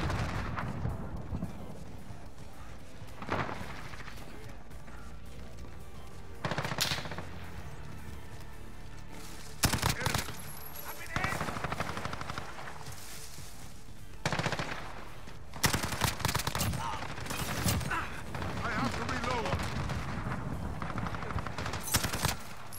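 Bizon submachine gun hip fire in the game Modern Warfare, several short rapid bursts of gunfire breaking out at intervals over steady game background noise, fairly loud and close.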